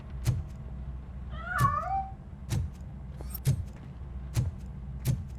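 A cat in RoboCop: Rogue City gives one clear, close meow with a rising-falling cry. Sharp, regular footstep-like thumps and light clatter sound around it as the animal escapes, with no talk.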